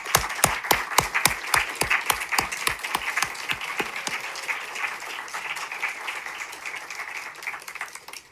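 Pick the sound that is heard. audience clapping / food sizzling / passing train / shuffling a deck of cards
audience clapping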